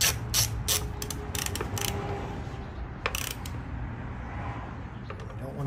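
A hand ratchet tightens a spark plug on a hybrid car engine, giving close, crisp bursts of rapid clicking in short strokes, then a pause and a final few clicks.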